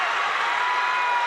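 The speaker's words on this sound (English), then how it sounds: "Crowd really starting to wake up a lot too" Basketball crowd at a Georgia high school Class 2A boys semifinal cheering and applauding after a made basket, a dense steady roar of claps and voices filling the gym without letup.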